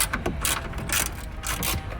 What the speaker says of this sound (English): you're going to have to remove these two bolts